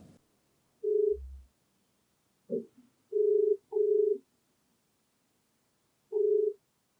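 Ringback tone of an outgoing phone call: a clean electronic tone pulses in short, evenly spaced double beeps with long silent gaps between them, heard alone in an otherwise silent line.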